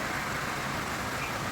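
Steady monsoon rain pours down outside a home in a village with a building under construction nearby, a dense, even hiss that fills the moment without any break or voices.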